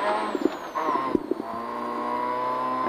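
Peugeot 106 N2S rally car driven flat out on a stage of the Rallye de Vaison, its engine holding a loud, steady high-revving drone with brief bursts and gear-change dips early on, heard close from inside the cockpit.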